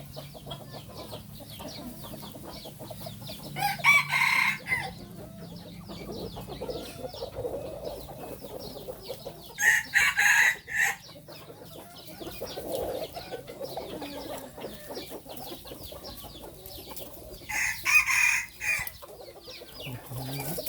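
Mixed-breed chickens in the evening: three separate rooster crows ring out at spaced intervals over low, steady clucking and background murmur.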